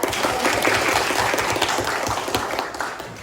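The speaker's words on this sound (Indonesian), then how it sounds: "Kita kasih aplaus untuk kita semua dulu ya." Classroom applause from students, a steady burst of many hands clapping together, close and loud, fading slightly toward the end, with no talking.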